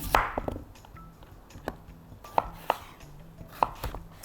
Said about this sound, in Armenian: Փեմ 4 մասի ենք բաժանում